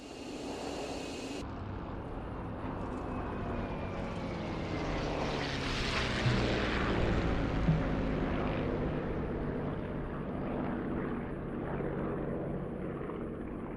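Propeller aircraft roar over an airfield during a Bf 109 attack in the DCS flight simulator, engine drone swelling to a loud pass and then fading slightly, sustained throughout.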